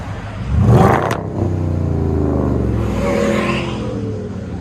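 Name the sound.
2017 Jeep Grand Cherokee 5.7L HEMI V8 revving, Xlerator mufflers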